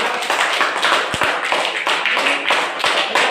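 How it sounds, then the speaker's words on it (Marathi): A crowd claps in loud, dense applause at a quiz competition, the sound rising and falling in a continuous round of clapping. "त्यासाठी सर्वांसाठी जोरदार टाळ्या होते"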